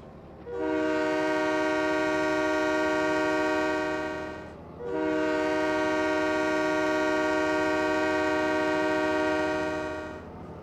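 Steam locomotive whistle in Train Mechanic Simulator 2017, two long loud sustained blasts with a short gap between them, over a low running rumble.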